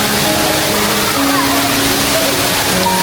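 Water pours continuously down an indoor artificial waterfall beside a restaurant on the sixth floor of the SOGO mall in Malaysia, a loud, even hiss with voices talking over it.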